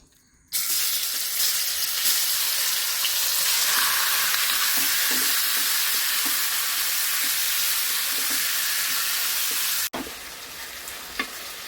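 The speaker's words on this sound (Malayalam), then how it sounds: "എണ്ണ ഒഴിച്ചു. ഇനി നമുക്ക് ചിക്കൻ ഇടാം." Pieces of marinated chicken frying in hot oil for Kerala-style chicken thoran, a loud steady sizzle with spitting crackles and stirring scrapes, continuous throughout and cutting off briefly near the end.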